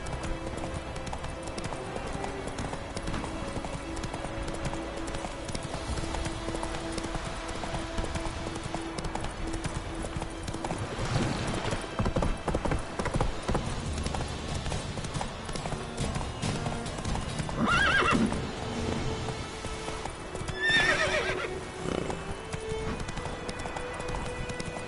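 Roach, the horse in The Witcher 3, galloping with steady clip-clop hoofbeats over game music, with a couple of brief neighs breaking through near the end.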